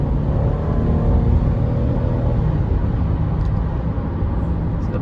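A 2004 Honda Odyssey EX with a transmission problem pulling away gently, a steady low engine rumble and road drone heard from inside the cabin, loud and even throughout without any talking.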